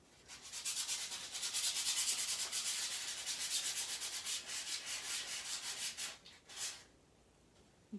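Chalk paint rubbed off a surface by hand, a steady close scrubbing with rhythmic back-and-forth strokes for several seconds that fades near the end, with no talk.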